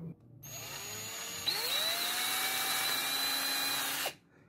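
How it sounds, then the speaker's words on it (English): Power drill boring the center hole through a cheap, fragile plastic project box, a high whine that spins up, changes pitch as the bit bites, then runs steadily for several seconds before stopping abruptly. "First, I'm going to drill the center hole."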